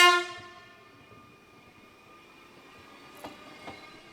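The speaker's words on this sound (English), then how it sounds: "Our final scene is of Z23557, heading north with the 921 stopper from Douai" Train Z23557 heading north on the 921 stopping service from Douai sounds a loud opening horn blast that quickly fades, followed by quiet rolling rail noise and a couple of faint clanks.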